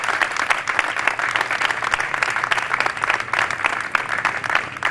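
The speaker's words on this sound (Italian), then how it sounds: "Un lungo applauso apre la protesta davanti alla prefettura a Catanzaro" A crowd at a street protest in front of the prefecture in Catanzaro, Italy, claps in sustained, dense applause, loud and steady throughout with no pause.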